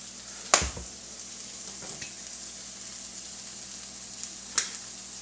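A breakfast pizza burrito fries on a griddle with a quiet, steady sizzle, broken by two sharp clicks or scrapes near the start and end, no talking.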